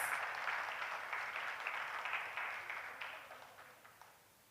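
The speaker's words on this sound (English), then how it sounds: "please give them a round of applause" Audience applause at a primary school graduation ceremony, a broad wash of clapping that starts strong and gradually thins and fades toward the end.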